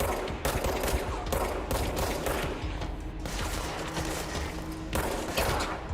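Rapid automatic gunfire from the video game Control rattles in dense, continuous bursts with brief gaps, loud and sharp throughout.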